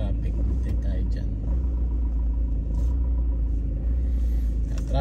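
Road traffic in snowy weather heard from inside a moving car, a constant low engine and tyre rumble beneath people talking.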